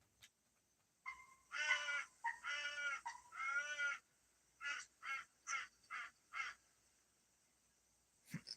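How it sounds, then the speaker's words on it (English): A turkey call in theHunter: Call of the Wild that comes out harsh and crow-like: three long raspy caws, then a quick run of five shorter clipped calls, fairly loud and close, with no talking. "It didn't even sound like a turkey call. It sounds more like a freaking crow."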